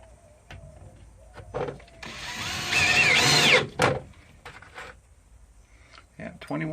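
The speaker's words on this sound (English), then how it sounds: "this one is set to have quite a lot of screws installed" A power drill drives screws into new boat flooring during a transom and floor rebuild, one rising whirring burst of about two seconds, close and fairly loud, set between quieter handling clatter.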